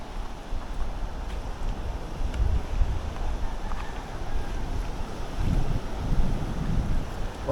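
Heavy seaside rumble from big monsoon-season waves breaking on a shore during early-morning shore casting, a continuous low roar with periodic surges, mixed with buffeting wind on the microphone.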